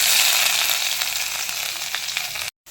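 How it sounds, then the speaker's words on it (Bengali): Grated khoa kheer hits hot ghee in a kadai, giving a loud, close, steady sizzle that fades slightly, ends in a sudden brief silence and then resumes. "এবার আমি যে খোয়া ক্ষীরগুলোকে গ্রেট করে রেখেছিলাম, এবার সেই খোয়া ক্ষীরগুলো এর মধ্যে দিয়ে দেবো"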